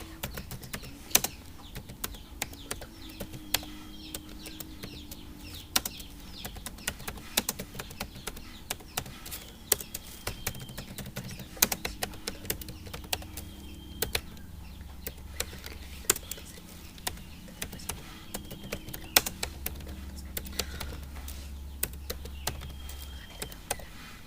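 Fast, steady typing on a computer keyboard, with crisp key taps repeating throughout at close range over a faint background hum, and no speech.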